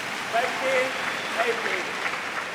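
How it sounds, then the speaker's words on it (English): Crowd at a China Masters 2016 women's doubles badminton final applauds in a steady, moderate patter, heard under a commentator's voice. "Generous applause."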